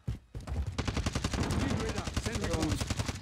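Call of Duty Warzone gunfire rattles out in a rapid, loud automatic burst after a brief silence, shots close and steady for nearly three seconds with faint voices underneath.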